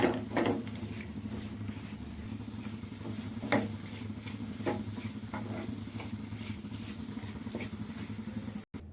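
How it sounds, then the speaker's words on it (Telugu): Fried bitter gourd pieces are stirred with chili powder in a pan, a low steady sizzle with occasional spatula scrapes and taps, close and fairly quiet. "కాకరాయ ముక్కలు కారము మొత్తం బాగా కలపాలి"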